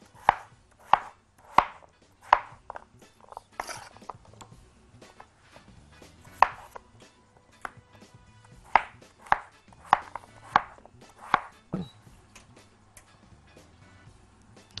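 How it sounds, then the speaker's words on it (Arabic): A knife chops vegetables and chicken on a cutting board in sharp, close, evenly spaced thwacks, over a dozen firm strikes in loose rhythm with short pauses, a faint low hum underneath and no talking. "وبعد كده هقطع الخضار، وبعد كده نبدا نقطع الفرخه"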